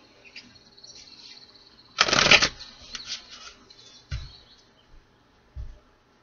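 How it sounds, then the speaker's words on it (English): Tarot cards shuffled by hand in a single brisk, loud riffle lasting under a second, followed by a few soft taps and card knocks in an otherwise quiet room. "One more shuffle."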